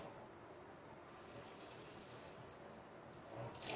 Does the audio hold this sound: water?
yes